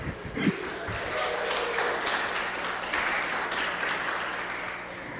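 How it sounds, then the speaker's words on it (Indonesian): A church congregation claps steadily in sustained applause during a sermon, a dense patter of hands filling the room without pause. "Tepuk tangan buat dia."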